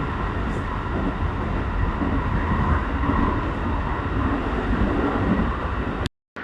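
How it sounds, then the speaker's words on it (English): Slow local train to Nara, Japan, heard from inside: a steady, loud rumble of wheels and carriage noise running continuously, cutting out briefly near the end. "this morning I managed to find myself on the slow train to Nara"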